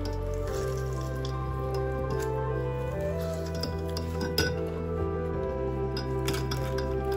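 Lemon pressed with a hand squeezer over a small jar of water, juice dripping and squishing with soft clinks against the glass, all over a steady hum of background sound.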